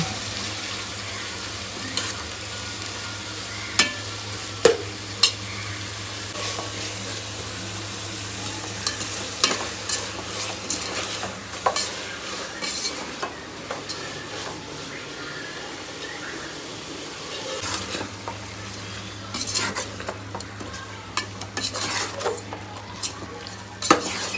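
Chopped tomatoes with salt fry in a pan while a spoon stirs them, giving scattered sharp metal clicks and scrapes over a low, continuous sizzle, with no talking.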